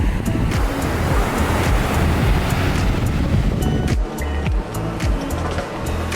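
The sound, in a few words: ocean waves on a beach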